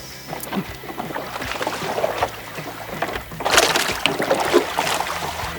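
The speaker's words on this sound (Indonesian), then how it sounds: "Kita naik sampan aja biar enak" A small wooden sampan sets off on the water during a snakehead fishing outing at Padamaran. Nearby water sloshes and splashes, with knocks from the hull and faint wind and no clear speech.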